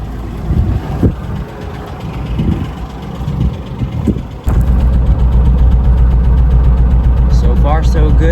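Ford Expedition engine with a rough-running slight misfire, idling up close with a low uneven rumble that grows louder and steadier partway through.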